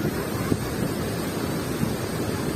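Water of the Kharun river flowing at the dam near Bendri village, a steady broad outdoor rush with wind buffeting the microphone and no voices.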